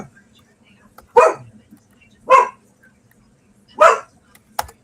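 A small yappy dog gives three sharp barks spaced about a second apart, then a brief fourth yip, loud and close against a quiet indoor background.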